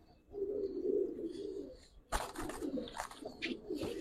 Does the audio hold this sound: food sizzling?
no